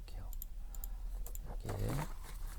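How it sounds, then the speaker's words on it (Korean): Several quick keyboard clicks tap out in short bursts, with a voice briefly speaking partway through. "제가 이번에 타이핑을 쳐볼게요."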